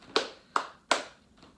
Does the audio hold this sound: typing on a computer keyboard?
no